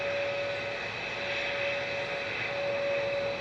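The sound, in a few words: Lufthansa City Airbus A320neo lining up for departure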